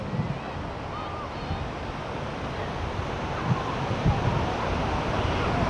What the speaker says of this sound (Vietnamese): cứ để những con sóng từ biển khơi đi vào